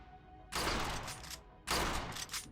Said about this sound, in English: You have permission to reload and continue firing until empty.